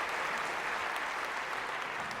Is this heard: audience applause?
yes